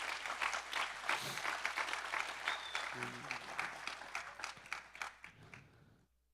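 A congregation at a church sermon applauds for Jesus, a fairly distant, steady wash of clapping that thins out and stops near the end.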